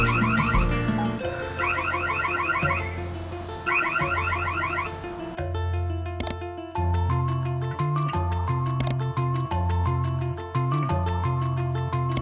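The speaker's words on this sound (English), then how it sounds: "if someone removes or breaks the doorbell device, the device will emit a siren sound" Loud electronic siren from a VUGERA doorbell's anti-tamper alarm, warbling and pulsing steadily for about twelve seconds, then shifting into a choppier, rhythmic alarm pattern, close and alone.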